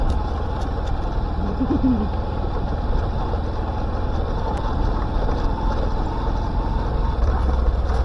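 A boat's engine runs continuously at a steady idle, a low droning hum that stays even and fairly close throughout.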